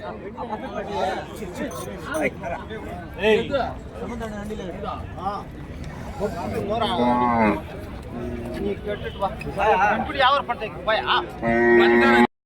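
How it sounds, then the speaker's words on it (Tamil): Bulls brought to the Kundarapalli Friday cattle market in Krishnagiri district low repeatedly, close and loud, over steady crowd chatter and people talking nearby. "அது எருது தான் சந்தைக்கு கொண்டு வந்திருக்காங்க"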